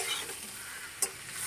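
Potatoes, capsicum and freshly added chopped tomatoes sizzle in a pan while being stirred, a dense close frying hiss with one sharp scraping clack of the spatula about midway.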